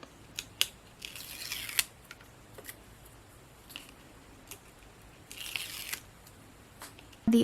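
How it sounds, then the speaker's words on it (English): Adhesive foam strips have their backing peeled off during papercraft card making, giving short, quiet tearing and crinkling rustles in a few separate bursts over a faint, steady background. "And then you just peel up the backing."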